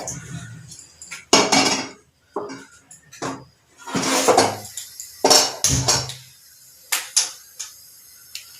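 A metal kadhai is picked up and set down in a home kitchen while masala matki is being made: a run of loud, close clanks, knocks and scrapes with short pauses between them.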